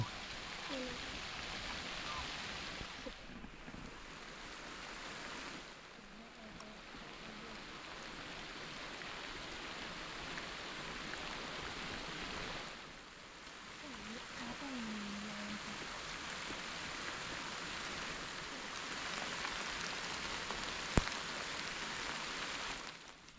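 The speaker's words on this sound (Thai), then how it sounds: "ฝนตกมาอีกแล้วฝนตกช่วง 12 โมง" Steady rain falls over a farm field at midday, a constant soft hiss that stays even throughout, with occasional faint animal-like calls but no talking.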